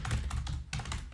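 Code typed on a computer keyboard while working in Dynamo for Revit, heard as a steady run of close, rapid key clicks in two quick bursts with a short pause between them.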